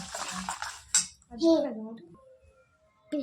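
A spoon clinks and scrapes around a bowl as batter with fennel seeds for malpua is mixed, a few sharp metallic knocks amid close scraping, with people talking over it.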